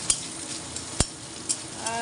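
Onions frying in a pan with a constant sizzle, punctuated by a few sharp clicks of a utensil at irregular intervals, close up.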